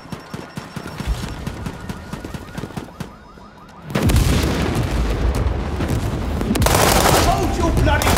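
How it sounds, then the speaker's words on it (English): Artillery fire in the video game World War 3 brings heavy booms and rolling explosions after a quieter stretch of scattered gunfire, loud and dense, with speech mixed in. "Enemy artillery fire incoming."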